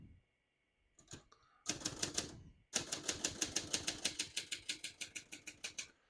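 Rapid, crisp clacks of a 1966 Hermes 3000 manual portable typewriter, keys struck in a steady rhythm close by, with a brief pause before a long run of evenly spaced strikes.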